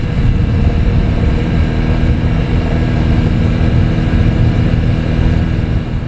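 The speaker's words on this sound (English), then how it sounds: "As always, here is that exhaust clip." A Honda sedan idling, heard at the exhaust: a loud, steady low rumble that holds an even level for the whole stretch, with no talk.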